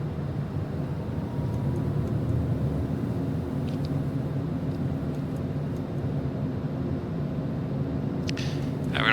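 A small plane in flight holding pattern altitude around 3000 feet with its landing gear extending, a steady loud engine and airflow drone filling the cabin throughout, with no talk.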